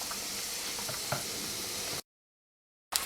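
Stuffed chilli pakoda fry in hot oil in a small frying pan. A steady, close sizzle with faint crackles runs for about two seconds, then cuts off abruptly.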